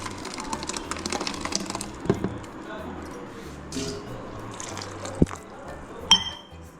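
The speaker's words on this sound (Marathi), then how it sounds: "थोडं पाणी टाकते, अर्धा ग्लास" About half a glass of water is poured onto soaked wheat in a mixer jar, giving soft splashing with a few glassy clinks, set against quiet room noise and a voice.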